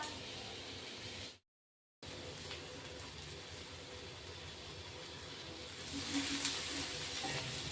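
Homemade black masala dry-roasts in a pan with a steady, soft frying hiss. The sound cuts out briefly near the start, then returns and grows slightly louder and brighter toward the end.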